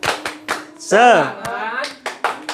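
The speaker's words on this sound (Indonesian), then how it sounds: "Oke, monggo tepuk semangat." A group of men at a training session performs a rhythmic spirit clap: crisp, close patterned claps broken by a loud chanted shout from the group, then more claps in rhythm.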